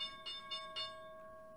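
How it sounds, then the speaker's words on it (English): The stock market's opening bell rings with three quick strikes over a steady sustained tone that fades out, heard faintly from a distance. "And there's the bell."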